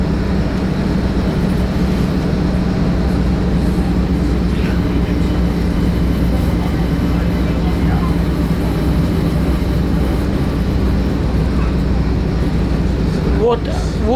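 Vintage Rälsbussen railbus running along the track, a continuous loud rumble and rattle from inside the cabin with a steady low drone throughout and faint squeals near the end.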